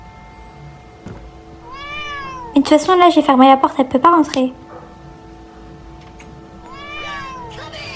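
A cat in a Roblox game meows in a rapid run of several loud cries, with softer mews before and after, while a person talks over it against a faint game background hum.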